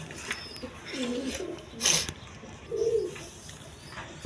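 Teri pigeons at a farm coo softly in a few short, low bursts, with a brief sharp noise in between and quiet background hiss.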